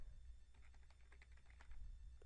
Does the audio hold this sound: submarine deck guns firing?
no